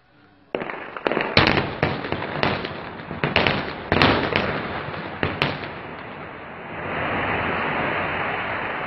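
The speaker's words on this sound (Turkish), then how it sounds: "Dinamitle patlatmalar yapıyorlar." Dynamite blasts at a dam construction site near Hasankeyf, a string of loud sharp booming cracks in quick succession, followed by a sustained rumbling roar of debris and wind-like noise.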